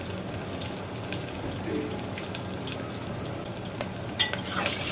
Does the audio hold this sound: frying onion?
yes